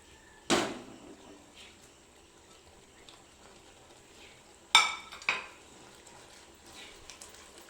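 A spoon scrapes and knocks against a pan while a ginger and tamarind pickle mixture is stirred, with three sharp clanks standing out from quiet, soft scraping in between.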